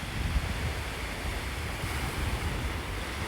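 Ocean waves wash steadily onto a Hawaii beach, a continuous broadband surf roar with wind buffeting the microphone and no voices.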